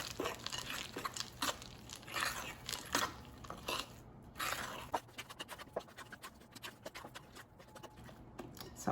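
Banana bread batter with chocolate chips stirred by hand in a bowl, a steady run of close scraping, thick sticky squelches and crunchy strokes with short pauses, no talking.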